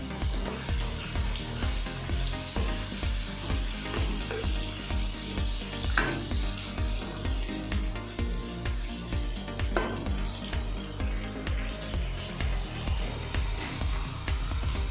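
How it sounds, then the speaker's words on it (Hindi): Onions frying in ghee in a pan for chicken biryani give a steady, dense sizzle with crackling pops that runs without a break for the whole stretch, fairly loud and close, with no one speaking. "प्याज को ना डार्क गोल्डन ब्राउन होने तक ना फ्राई कर लेते हैं"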